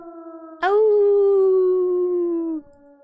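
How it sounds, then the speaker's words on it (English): A single wolf howl from the video game Raging Loop rises sharply, then holds a steady drawn-out note for about two seconds before cutting off over a quiet tonal background. "A howl."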